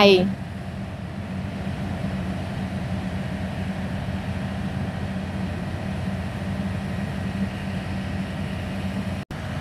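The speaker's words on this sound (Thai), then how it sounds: "เสียงคอมเพรสเซอร์แอร์ ดังลั่นสถานีกรุงเทพหัวลำโพง" A train's air-conditioning compressor roars on a platform at Bangkok's Hua Lamphong station, a loud, steady mechanical drone with a constant low hum that runs unbroken through the whole stretch.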